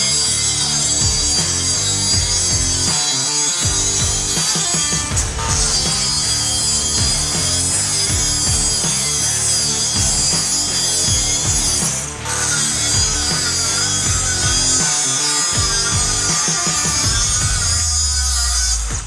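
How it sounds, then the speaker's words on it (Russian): Mini cordless angle grinder, half the size of a 125 mm grinder, cutting wood, a continuous harsh buzzing whine with brief dips, loud and close, no talk. "это тот случай, когда болгарка, которая физически и вообще, в принципе, во всем в два раза меньше полноразмерной 125-й болгарки, пилит с той же скоростью"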